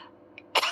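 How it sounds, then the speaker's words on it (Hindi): A single harsh cough bursts out close and loud near the end, after a stretch of quiet room tone with a faint brief click, from a person with a sore throat at a year-end celebration gathering. "आज आपको भी खांसी हो रही है बुरी"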